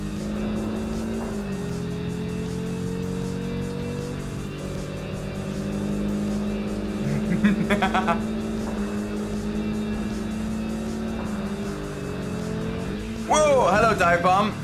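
A racing car in Kaido Racer holds a steady, droning engine note while accelerating, with brief squeals and sharper revving bursts midway and near the end, under a player's talk.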